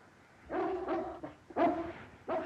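A dog gives a few short, yelping barks and whines in quick succession, close by and moderately loud, with no talk.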